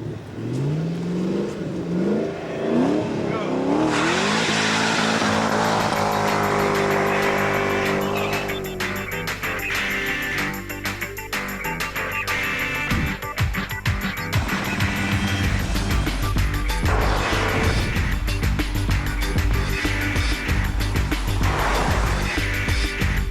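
A Ford GT sports car revs loudly and accelerates hard at Thunderhill race track, its engine note climbing and shifting through gears, then holding a sustained roar as it drives nearby.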